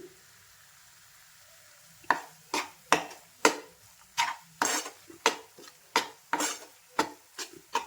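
A spatula scrapes and stirs a sugar and cardamom sweet filling being roasted in a pan, a steady series of rhythmic, fairly loud scraping strokes after a brief quiet start, with no talking.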